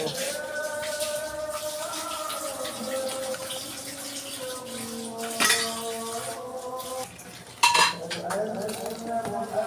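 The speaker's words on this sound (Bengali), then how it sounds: "একটু নাড়াচাড়া করবো ভালোভাবে একটু ঘিউ দিব" Bottle gourd payesh, a sweet milk pudding, stirred in a pot, with metal spoon clinks and scrapes against the vessel over a running tonal hum, growing sharper near the end.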